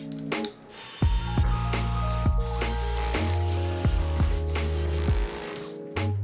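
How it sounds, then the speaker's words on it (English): A Phillips screwdriver driving screws into pre-drilled holes in an IKEA Besta cabinet panel, with repeated close ratcheting clicks and squeaky turns in short bursts and low thuds between them. "Start by screwing them into 4 pre-drilled holes in each corner of the bottom panel"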